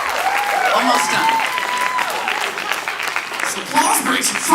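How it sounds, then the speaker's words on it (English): Applause from a comedy crowd at a stand-up show in The Plaza Theater, loud and continuous, with a faint voice and crowd murmur mixed through it and a brief swell near the end. "This applause breaks fucked me up"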